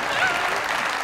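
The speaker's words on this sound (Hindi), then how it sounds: "बहुत सारी तालियां होनी चाहिए।" Studio audience applause on the comedy talk show Mazaq Raat: a dense, steady burst of many hands clapping together, close and fairly loud, lasting about a second without a break.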